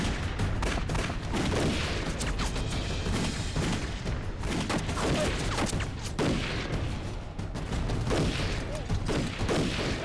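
Heavy gunfire in a Chinese anti-Japanese war drama, with dense volleys of rifle and machine-gun fire and booming blasts, loud and continuous for the whole stretch.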